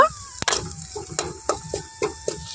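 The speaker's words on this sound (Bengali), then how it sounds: "কড়াইয়ের মধ্যে আমি দিয়ে দিচ্ছি নিম পাতা" Neem leaves stirred in a dry pan over low heat, no oil, giving a series of dry scraping, rustling strokes, roughly evenly spaced, close and fairly quiet, with a faint crackle.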